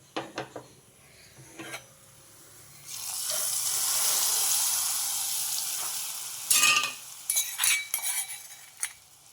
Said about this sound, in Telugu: మన తాలింపు వేగిపోయింది పప్పులో వేసేద్దాం